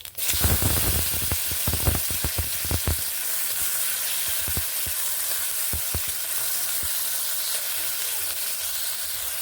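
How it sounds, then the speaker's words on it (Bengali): Chopped tomatoes and black cumin fry in oil in a wok with a loud, steady sizzle. Bursts of crackling and stirring come early and then thin out under a continuous hiss. "টমেটো ও কালো জিরেগুলোকে এইভাবে ভেজে নিচ্ছি"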